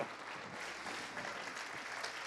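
Steady applause from a church congregation, a thick, even wash of many clapping hands held at a moderate level throughout.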